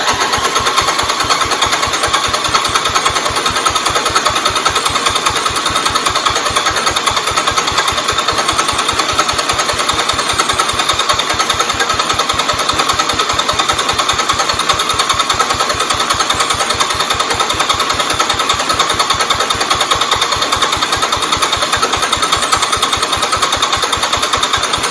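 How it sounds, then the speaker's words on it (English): The engine of a 1971 Hydraulic Lift 110 garden tractor runs loud and close after a head gasket replacement, with a fast, steady, even chugging beat that holds unbroken throughout and no voices over it. "once it primes and the engine starts, we should be able to unchoke it and see how it runs"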